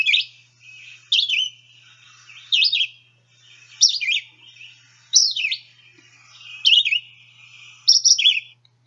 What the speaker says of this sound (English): Remember the tone and quality of the red-eyed vireo song